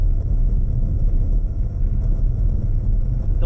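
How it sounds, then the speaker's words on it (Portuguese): Engine of a Renault Arkana E-Tech hybrid car, 145 horsepower, droning as a steady, loud low rumble without pause, no talking. "temos um barulho de motor que é bastante presente quando ele começa a funcionar e quando a gente exige dele"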